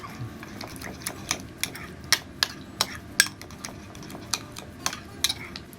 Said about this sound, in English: I'm just gonna mix this together thoroughly